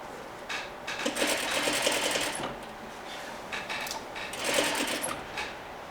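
Sewing machine stitching a Parsons chair slip cover, running in two quick bursts of rapid needle chatter with a short pause between, close and fairly quiet, with no talk.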